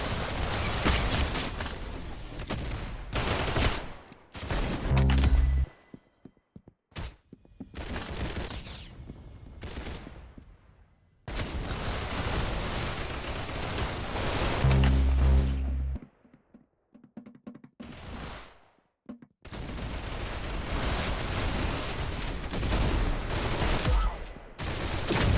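Gunfire in the video game Roblox comes in long rapid bursts of automatic fire separated by short silences, with mechanical clicks and thunks between the bursts.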